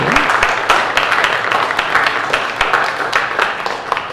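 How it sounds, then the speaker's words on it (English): Sunday worship congregation applauding after a round of applause is called for; steady, fairly loud clapping from many hands with a few murmuring voices underneath, continuing throughout. "Can we have a round of applause for them?"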